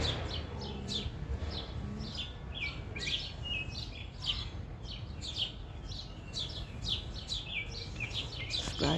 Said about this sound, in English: This is a bird. That was a bird.